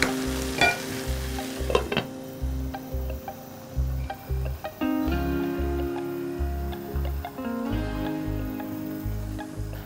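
A chicken mixture with fresh cream simmering gently in a pan while being stirred, a continuous sizzle with close scraping strokes and a steady low hum beneath.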